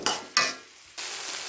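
Tomato being added and stir-fried with onion, ginger-garlic paste and turmeric in a pan: two short bursts of sizzling and stirring, then a steady, softer frying hiss.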